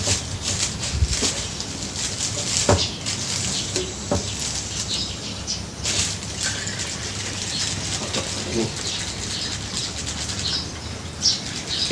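Photosynthetic bacteria (PSB) liquid sloshes and splashes inside a container being shaken, a continuous close, busy rushing sound with occasional knocks.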